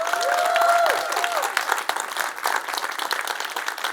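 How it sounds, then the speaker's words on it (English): Full crowd applause for a speaker at a community conference in Leeds, dense and steady clapping that gradually thins out, with faint voices mixed underneath. "Huge round of applause once again."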